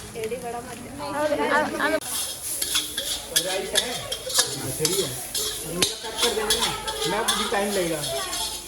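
Fried rice and noodles are stir-fried at a Bombay fast food stall at an Indian university, with rapid scraping of a spatula on the pan and sizzling under steady nearby chatter and talking voices.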